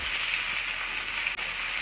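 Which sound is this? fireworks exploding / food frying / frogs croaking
food frying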